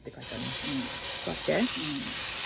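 Wagyu beef frying in a pan makes a continuous, close sizzling hiss while a person talks briefly over it.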